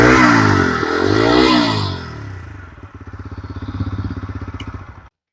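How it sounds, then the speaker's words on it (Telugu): A TVS Apache RTR 160 4V 2025 motorcycle engine sounds close by, first revving in a loud rising and falling roar, then settling into a steady, rhythmic pulsing idle beat that cuts off abruptly. "ఈ విధమైన మనకి బీట్ వస్తుంది. బీట్ కూడా ప్రీవియస్ వెహికల్ కి సంబంధం లేదు, ఇంజిన్ బీట్ చేంజ్ చేసింది"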